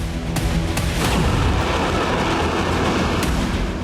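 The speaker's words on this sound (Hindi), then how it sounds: "शहर के अलग अलग हिस्सों में जबरदस्त विस्फोट देखे गए।" Heavy explosions from Russian missile strikes on Ukrainian cities, rolling booms and blasts with sharp cracks, loud and continuous throughout with no voices.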